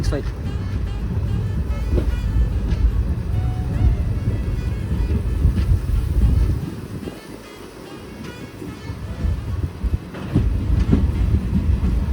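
The Mettupalayam-Thoothukudi Express running: a steady low rumble of the moving train with clattering wheels and wind noise, loud and continuous, with a voice talking over it.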